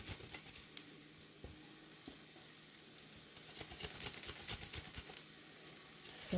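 Arroz caldo ingredients bubbling gently in a pot, a soft continuous sizzle and patter with scattered light pops, fairly quiet and without voices.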